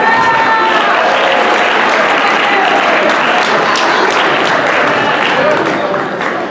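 An audience applauds at a high school student recognition assembly, producing a loud, dense and sustained wash of clapping from a large crowd, with voices mixed in throughout.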